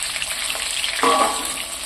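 Chicken pieces fry in hot oil, a close, continuous sizzle that briefly swells with a sharper hiss and ringing scrape as a piece is turned.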